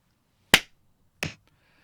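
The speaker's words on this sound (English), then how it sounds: "let's do the clap" Two sharp hand claps for syncing a podcast recording, spaced less than a second apart, crisp and close against near silence with no talking.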